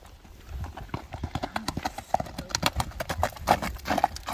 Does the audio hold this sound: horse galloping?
yes